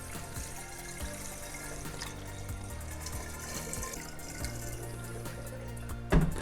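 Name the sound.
water pouring into a carboy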